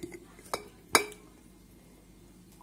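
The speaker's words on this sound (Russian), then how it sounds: "И укладываем перец в баночку." Sweet bell peppers, prepared for pickling, are set into a glass jar, giving a few sharp clinks and knocks against the glass, with one loud clink standing out amid quiet handling.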